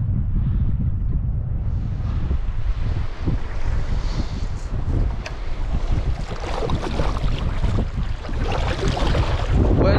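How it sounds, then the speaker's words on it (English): Strong wind gusts roar and buffet the microphone during kayak fishing at sea, a loud continuous rumble with rushing water and splashing near the boat, unbroken for ten seconds. "the wind's just kind of gone a bit crazy"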